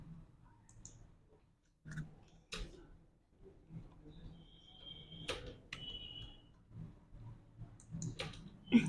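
Several sharp computer mouse clicks at irregular intervals in a quiet room, with faint background hum and a brief high electronic tone partway through; no talking.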